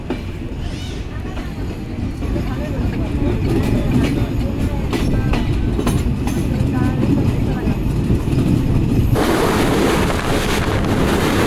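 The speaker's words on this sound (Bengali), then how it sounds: "আজিমনগর রেলওয়ে স্টেশন ছেড়ে গেল আন্তনগর কপোতাক্ষ এক্সপ্রেস" Kapotaksha Express intercity train pulling away from Azimnagar railway station, a steady loud rumble of wheels and wind throughout, growing harsher and brighter near the end.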